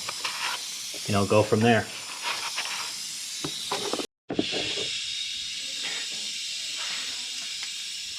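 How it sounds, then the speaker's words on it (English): Compressed air hisses in steady bursts around a spark plug well on a 2008 Ford Focus engine during a tune-up, with a short pause partway through; someone talks briefly over it. "hit it with some compressed air up and around there until it soaks into the rag"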